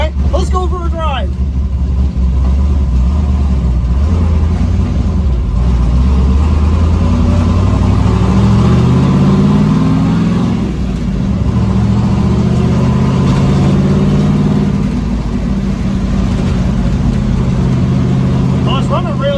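A twin-turbo LS V8 rat rod being driven through town sends out a loud, constant engine drone, with revs climbing and falling as it shifts and accelerates, heard close up from inside or beside the car.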